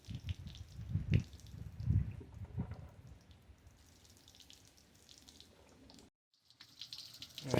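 Water splashes and gurgles while flushing through a car's cooling system with the lower radiator hose off, an uneven stream with louder bursts at first that settles into a steady trickle, then briefly cuts out.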